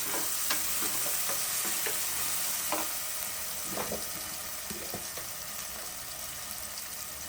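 Mutton curry stirred in a pan, with a steady sizzle of frying and scattered scraping strokes of the spoon, close and moderately loud, no talk.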